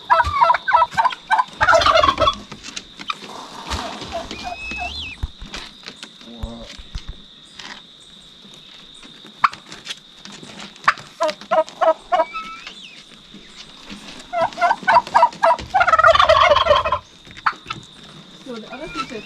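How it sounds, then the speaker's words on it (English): Two guinea fowl in a farm aviary in Jamaica squabble with bursts of harsh, rapid cackling calls, close by and loud, separated by quieter stretches where people talk. "inside visiting them are 2 guinea fowl"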